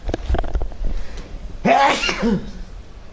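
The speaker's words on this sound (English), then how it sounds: "Just give me a second while I sneeze." A single loud sneeze bursts out after a few sharp breaths and sniffs, close to the listener.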